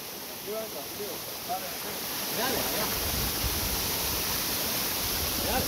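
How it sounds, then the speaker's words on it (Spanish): A roaring waterfall, about 53 metres high, reached on a hike, gives a steady, dense rush of falling water that fills the whole scene, with faint voices talking over it. "aquí le puedo grabar la cascada"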